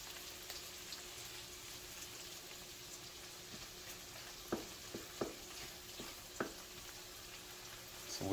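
Crappie fish frying in a pan give a steady, even sizzle throughout, with a few soft clicks and taps partway through and a louder clatter at the very end; no voices.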